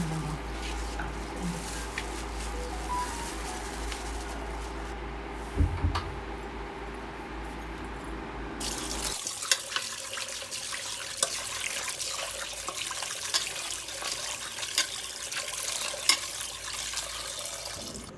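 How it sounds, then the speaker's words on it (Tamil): Raw country chicken pieces rinsed under a running kitchen tap: water pours and splashes continuously, with the flow shifting to a brighter, harsher spray partway through. "இதை வந்து நம்ம தண்ணி விட்டு நல்லா தனித்தனியாக அலசி எடுத்து வச்சுக்கலாம்"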